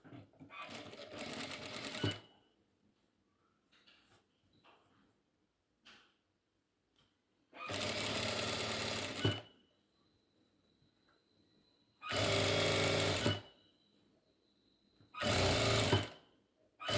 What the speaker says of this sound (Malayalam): ഇനി നമ്മൾ അഴി കെട്ടാനുള്ള മാറ് ഇതേപോലെ വീതി കൂടിയ പീസ് ഇതുപോലെ സ്റ്റിച്ച് ചെയ്തെടുക്കുക.